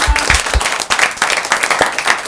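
A studio audience breaks into lively applause, dense close clapping throughout the short burst, without clear talk over it.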